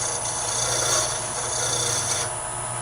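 A steady hand file rasps back and forth, putting a small chamfer on the corner of a 16 TPI thread-cutting tool for miniature lathe turning, a close, continuous gritty scraping with no pauses.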